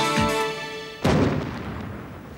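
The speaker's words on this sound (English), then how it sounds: "Add a little more fire and cork and a powder explosion" A stunt powder explosion with fire and cork goes off on a film set as a single sudden heavy boom, following a brief tonal hum, then rumbles and fades over about a second and a half with no talk.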